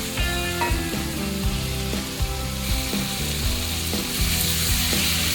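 Spices frying in oil in a pan give a steady sizzle that runs throughout, partly covered by tonal background music.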